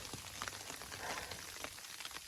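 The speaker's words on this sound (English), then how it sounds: "Unfortunately, it's also raining and snowing at the same time, which sucks." Rain mixed with snow falls steadily along the Appalachian Trail, a faint, continuous patter of droplets hitting the surrounding surfaces, with no voices.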